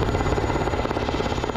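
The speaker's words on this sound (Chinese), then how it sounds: "直升机、战斗机接连起飞，发射炮弹，演练空中作战。" Military helicopters take off during an air-combat drill, a loud, steady rotor thrum filling the short stretch with no voices.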